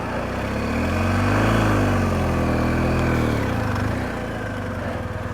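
An adventure motorcycle pulls away uphill on a quiet road, its engine rising steadily as the clutch is let out and throttle added, then settling to a steady mid-pitched drone, close and fairly loud.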